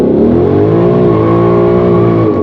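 Car revving hard while launching from a dig, its engine note holding a loud steady drone with a slight dip and rise as the tires spin, close and continuous with no speech.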